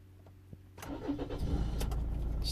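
A Land Rover Freelander TD4 diesel engine with a limp-mode fault cranks briefly, then catches and settles into a steady, loud close idle rumble after a few quiet clicks.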